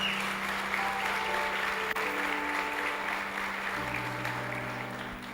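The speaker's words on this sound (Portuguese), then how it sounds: "dá uma salva de palmas" A church congregation at a conference session breaks into sustained applause, a dense crackling wash of many hands clapping together, with a held musical tone and faint voices underneath that fade slightly toward the end.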